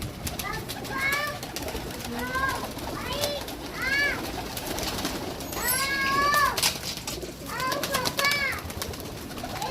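Rooftop pigeons coo in soft repeated phrases with brief chirpy calls, fairly close, over steady outdoor background noise.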